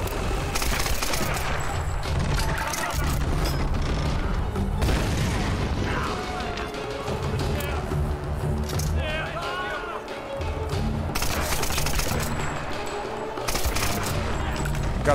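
Gunfire and explosions in the Tomb Raider video game, continuous loud booms and rattling volleys of shots filling the whole stretch, with someone talking over the battle.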